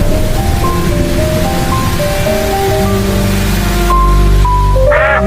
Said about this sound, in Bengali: খরগোশটি পানির স্রোতে ভেসে ঝর্ণার উপর থেকে পড়ে যাইতে লয়